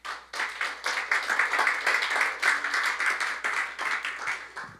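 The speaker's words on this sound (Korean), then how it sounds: "박수 한번 해주십시오." Audience at a lecture in Busan applauds for several seconds, a dense, steady burst of clapping that starts abruptly and stays fairly even throughout.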